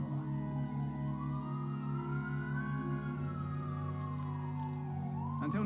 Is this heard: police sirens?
yes